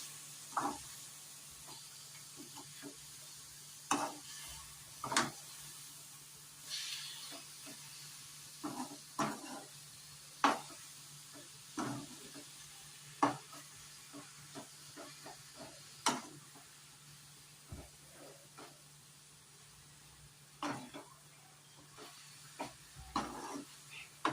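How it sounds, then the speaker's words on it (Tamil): Spinach stir-fry (palak poriyal) is stirred in a pan, with scattered spoon scrapes and clinks in irregular bursts over a faint hiss of gentle frying, quiet and close. "அடுத்து அதை வந்து நல்லா கிண்டி விட்டுக்கலாம்."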